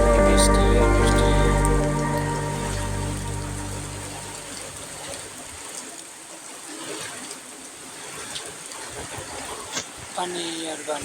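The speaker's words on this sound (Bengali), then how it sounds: "বৃষ্টি আর বৃষ্টি, বৃষ্টি আর বৃষ্টি।" Rain falls steadily outdoors, a dense patter that starts over a low rumbling hum and continues evenly at moderate loudness for the whole stretch, with no voices.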